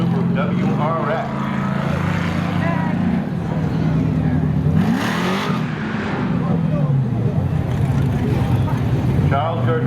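A WRX car accelerates hard in a spectator drag race at a speedway, its engine droning loud and steady with rising pitch sweeps and gear changes, a burst of roar midway and an announcer's voice mixed in.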